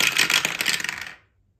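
Two dice clatter and tumble across a hard surface during a savings game, a quick burst of small rattling hits lasting about a second before stopping abruptly.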